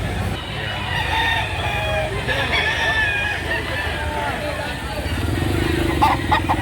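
Gamefowl roosters crow repeatedly at a Saturday chicken market in Lipa City, Batangas, the calls rising over a steady crowd murmur, a passing motorcycle and nearby talk.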